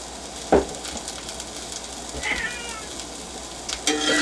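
A cat meows clearly in a kitchen with food sizzling in a pan behind it. A single sharp meow comes first, then a softer, drawn-out call and a few shorter ones.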